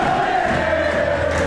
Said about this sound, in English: Crowd on their feet chanting.